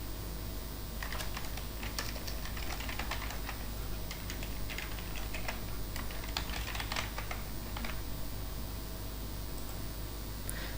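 Rapid typing on a computer keyboard while registration details are entered, a busy run of light key clicks in short bursts with brief pauses, close and clear over a steady background hiss.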